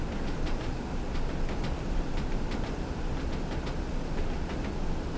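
Steady, rumbling train noise with faint periodic clicks of wheels passing over rail joints, inside a train on the Tees Valley Line in Train Sim World 2, continuous and even throughout with no talk.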